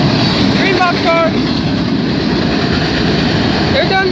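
A Union Pacific freight train with a green box car rumbles past close by in a steady, loud roar, with faint squeals from the cars and wheels.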